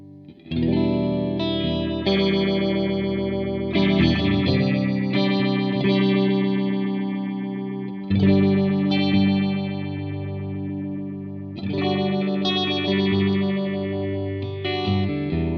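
Electric guitar played through a Fender phaser pedal set to phase 8: four long strummed chords, each ringing out with a slowly sweeping, swirling tone, clear and alone.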